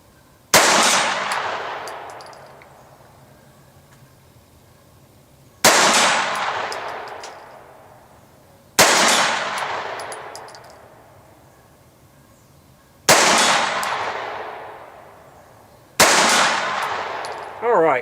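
Five sharp pistol shots ring out from a Ruger SR22 firing CCI Stinger hypervelocity .22 rounds, spaced a few seconds apart outdoors, each crack loud and close, followed by a long decaying echo.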